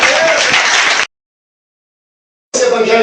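A church congregation claps loudly in a dense burst of applause. The sound cuts out abruptly to total silence for about a second and a half, then the clapping returns.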